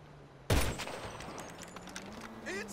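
A single loud gunshot in GTA 5 Online on PS5 cracks out sharply, followed by a decaying echo and faint background game sounds.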